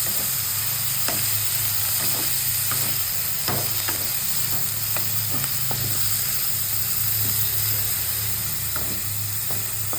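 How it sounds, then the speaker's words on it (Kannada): Cauliflower gobi masala frying in a pan, with a steady loud sizzle and hiss throughout and repeated scraping and clicking strokes of a spoon as it is stirred. "ಫುಲ್ ಗೋಬಿ ಹಾಕ್ಕೊಂಡು ಎಲ್ಲ ಮಿಕ್ಸ್ ಮಾಡ್ಕೊಳ್ಳೋಣ."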